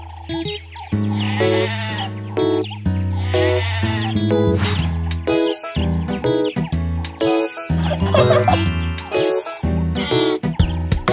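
Sheep bleat repeatedly in long, wavering calls inside a cheerful children's nursery-rhyme track, with light jingling and music woven around them.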